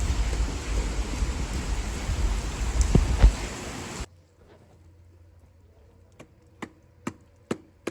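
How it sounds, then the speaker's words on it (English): Rain falls on a concrete work site where a vertical overlay is being stamped, a steady broadband wash of drops that stops abruptly halfway, after which a few sharp separate taps ring out over near silence. "Told you the rain was coming."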